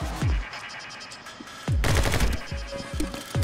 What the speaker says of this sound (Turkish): Hemen geçelim çifte Uzi.